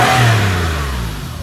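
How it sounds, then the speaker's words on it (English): A Porsche Carrera 3.4 convertible engine revs up loudly and close, a single rising burst that then settles back toward a steady lower drone. "Give it a rev."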